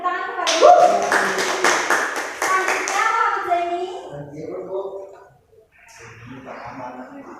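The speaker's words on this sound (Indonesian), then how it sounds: "beri tepuk tangan kepada Selanjutnya Muhammad Zaini" A classroom of students claps for a classmate, a dense burst of many hands that holds for about three seconds and then trails off into scattered taps, followed by quiet and then nearby talking.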